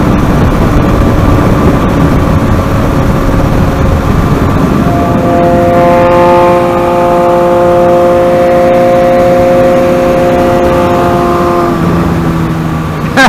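A KTM Duke 390 motorcycle accelerates hard to overtake, its engine loud and close under steady wind rush, the droning pitch rising through the gears as the bike pulls past.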